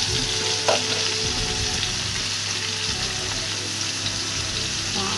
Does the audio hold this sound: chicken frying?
yes